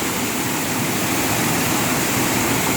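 A Thai waterfall pours in a steady, dense broadband roar, loud and close, with no voices over it.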